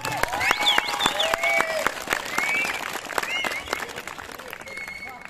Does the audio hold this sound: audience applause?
yes